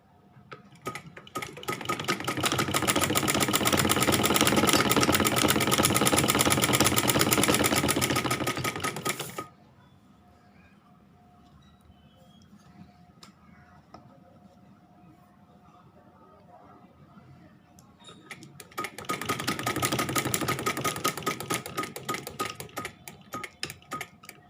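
A sewing machine stitches a neckline along buckram in two loud, rapid mechanical runs of dense clicking, separated by a quiet stretch of about ten seconds with faint room noise.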